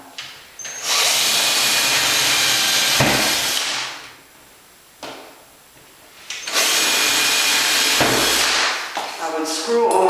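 A power drill with a 2.5 mm bit bores a pilot hole into a cabinet, with two long, loud whirring runs separated by a quieter pause and a few short bursts at the end.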